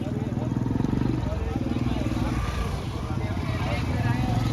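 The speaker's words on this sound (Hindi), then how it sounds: "बाइक से देखिए लोग जा रहे हैं नहा के, ये घाट तक बाइक चली जाती है।" Motorbikes carrying bathers ride toward the ghat at the Maha Kumbh in Prayagraj, their engines a continuous rumbling drone under steady nearby talk in a busy crowded outdoor setting.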